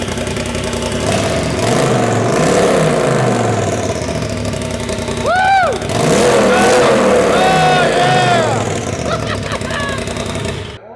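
A UTV engine with an Evo Captains Choice straight pipe exhaust idles loud and close, then revs up in several sharp rising blips with a rough, raspy tone, while people shout and talk over it.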